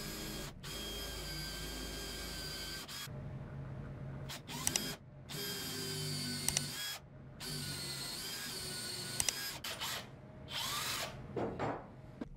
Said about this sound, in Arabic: طبعا هنستعمل بونطة مناسبة ونبدأ التخريم